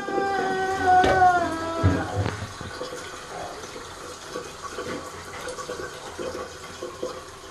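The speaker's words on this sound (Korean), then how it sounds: "물 그만 켜. 됐어. 넘친다." Tap water running and filling a basin indoors, a steady close splashing rush that settles into a softer continuous flow.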